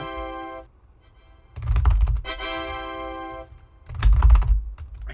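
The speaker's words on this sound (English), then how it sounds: "Maybe it's just a membrane keyboard." Bursts of keystrokes on a membrane computer keyboard clatter in two quick runs, close and fairly loud, each separated by a sustained musical tone with no typing beneath it.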